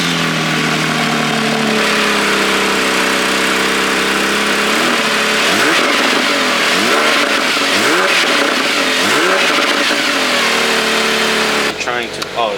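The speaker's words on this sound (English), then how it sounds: "Let's start it up and rev it a little bit." A car engine cranks, catches and idles, then is revved repeatedly in rising and falling sweeps, loud and close, with a person speaking over it near the end.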